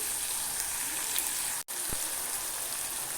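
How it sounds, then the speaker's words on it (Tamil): Sliced onions sauté in oil in a pan for an egg gravy, giving a steady, close hiss of sizzling throughout with one brief dropout midway. "வெங்காயம் வதங்கட்டும்"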